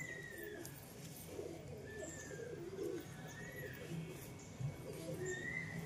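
A male Giribaz pigeon coos in soft, repeated low rolling phrases, faint and close, with light chirps and background noise around it.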